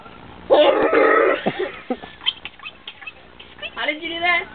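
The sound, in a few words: voice imitating a mouse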